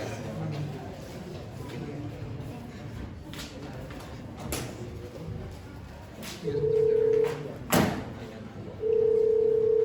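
Mobile phone sound effect in a staged school monologue: a quiet room with scattered clicks and knocks, then loud sustained electronic phone tones in the second half, broken by a sharp crack, with a voice faintly present.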